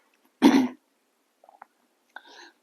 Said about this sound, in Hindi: बीच में खांसी वासी तो हो ही जाता है यार